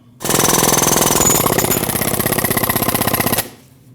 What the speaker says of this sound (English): take your air chisel and chisel this down and this will pop right out